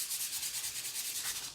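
Sandpaper rubs over a painted wooden slotted pumpkin finished with Country Chic paint, making close, steady scratchy strokes in a quick rhythm with no talking.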